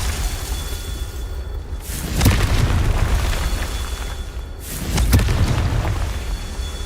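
Two booming fire-spell explosions from the Confringo spell in the Hogwarts Legacy video game, each a sharp blast followed by a roaring, crackling tail, about three seconds apart.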